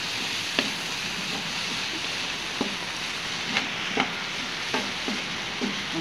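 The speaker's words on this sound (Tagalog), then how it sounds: "mabilis lang halo." Fried rice with cabbage, egg and Himalayan salt being stirred quickly in a frying pan: a steady sizzle broken by sharp scrapes and taps of the utensil against the pan at irregular moments, with no talking.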